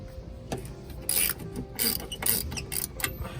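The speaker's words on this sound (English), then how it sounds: "So we're gonna loosen up these two bolts." A 1/2 inch socket wrench with a 3/4 inch socket ratchets as RV slide-out adjustment bolts are loosened, giving several close bursts of rapid metallic clicking with short pauses between strokes.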